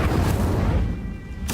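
An Incendio fire spell cast in the Hogwarts Legacy video game produces a single loud, booming burst that rumbles low and fades over about a second, with a brief crackle at the end.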